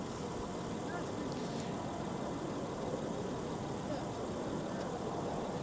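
An Airbus A330 wide-body jet taxis toward the runway at a wintry airport, a steady mid-distance engine drone with broadband rumble that carries without a break.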